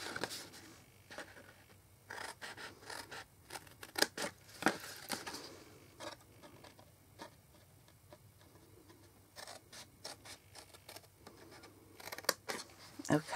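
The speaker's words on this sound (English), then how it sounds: "Take your paper snips. Okay, so cut up that line." Paper snips cut along a scored line on craft paper in a series of quick, crisp clicks and snips, irregular in rhythm, close and fairly quiet, with no talk over them.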